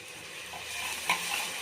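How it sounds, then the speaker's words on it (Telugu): Ground tomato paste frying in oil in a pan for a chapa (fish) curry, a soft continuous sizzle with a brief stirring scrape, close and fairly quiet. "ఇవన్నీ నూనెలో మంచిగా వేగాలి."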